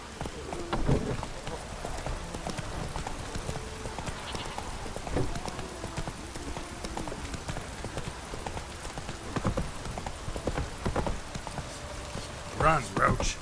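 Geralt's horse Roach galloping in The Witcher 3: steady, fast clip-clop hoofbeats under a rain-like hiss, with a brief whinny-like sound near the end and no talk over it.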